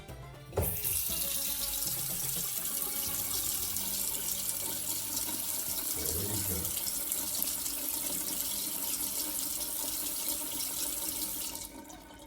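A Grohe metered automatic faucet switches on with a click and runs a steady, close stream of water into a sink for about eleven seconds, with faint handling knocks partway through, before the flow cuts off.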